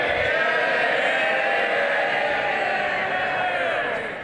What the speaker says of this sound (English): You will see from the loud cheer just how popular the former minister was